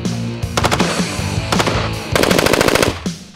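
Automatic gunfire from a firearm aimed at a target, sharp rapid bursts in two or three volleys with brief pauses between, loud and close, no voices.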